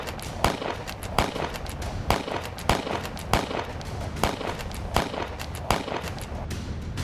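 Intermittent gunfire during a security forces' operation against militants in Kulgam, Jammu and Kashmir: sharp single shots crack out about every second over a steady background, without speech.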